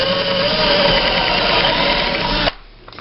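A power drill runs steadily as it drives a screw at an angle into a shelf, a loud, close whir that holds level for a couple of seconds and then cuts off abruptly.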